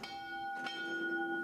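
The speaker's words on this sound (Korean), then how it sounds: "매일 새벽 5시 반이 되면 은은한 종소리가 울려 퍼져 사람들의 단잠을 깨운다." A church bell at a rural healing center in Boseong, South Korea, rings at dawn with a sustained, softly resonant tone and a lingering hum, heard alone over faint ambient hiss.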